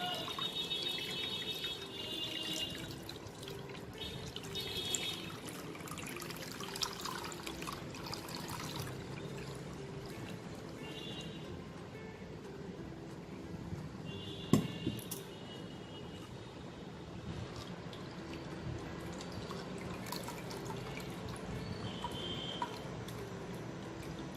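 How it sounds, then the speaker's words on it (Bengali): Milk strained through a sieve into a bowl, a soft continuous trickle and pour held at low level throughout, with faint clinks and one sharp tap midway. "এবার এই দুধটাকে ছেঁকে নেব"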